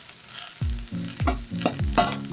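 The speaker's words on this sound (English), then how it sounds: "Now we're going to leave our onions to be translucent, but always keep stirring, because there's not enough oil on the pan, it's going to burn." Chopped onions frying in a little oil in a pan while being stirred, four rhythmic scraping strokes over a soft sizzle, close and fairly loud, no talking.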